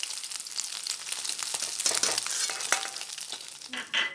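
Chitol fish pieces fry in a pan, a dense, busy crackle and sizzle with stirring scrapes and a few clinks, fairly loud and close, with no speech.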